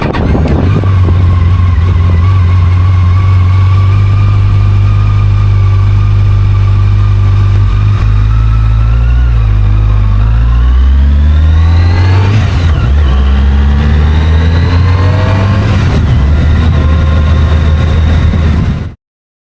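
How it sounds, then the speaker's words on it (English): Yamaha FJR 1300 motorcycle with a 1298 cc inline-four engine, loud and close, idling then revving up and down in several rising and falling sweeps, alone without talk. "the sound that this engine makes is really cool."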